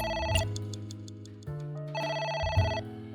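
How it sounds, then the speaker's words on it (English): A phone rings in the video game AI: The Somnium Files, with two bursts of an electronic ringtone over a steady low background score and no talking. "Phone's ringing again."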